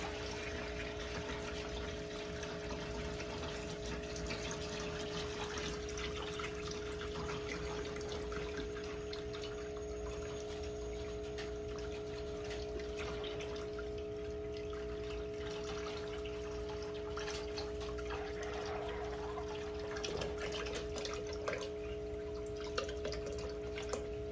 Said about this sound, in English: I'm just going to open that service valve, and that's going to pour the water out of this into the tote.